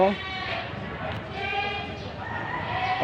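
Several goats bleat in wavering cries close by, overlapping against a busy outdoor background.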